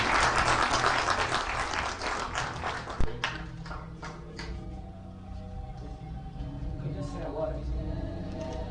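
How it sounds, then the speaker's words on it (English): An audience gives call center staff a big round of applause at a live-streamed gathering. Dense, loud clapping fills the first three seconds, then cuts off and gives way to a quieter room with voices. "So I think they can all just get a big hand applause."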